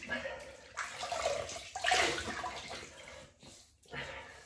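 Water splashes and trickles as a face is wetted at a sink before a wet shave, irregular close splashing bursts with a quiet gap near the end.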